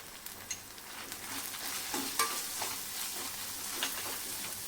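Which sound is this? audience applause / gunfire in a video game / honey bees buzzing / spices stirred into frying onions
spices stirred into frying onions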